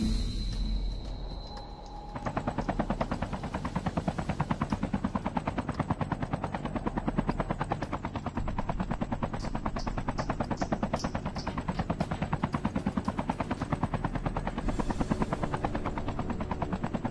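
A military helicopter in Call of Duty Mobile thrums with a loud, steady rotor chop that dominates throughout, after a brief high tone at the start, with faint gunfire-like bursts mixed in.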